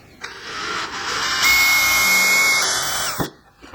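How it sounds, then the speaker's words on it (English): A power drill pre-drills holes and drives a 2.5-inch deck screw into a wooden candy cane stocking holder, whirring loudly and steadily up close for about three seconds before stopping. "I'm going to pre-drill and then I'm going to drive some screws into the bottom of it."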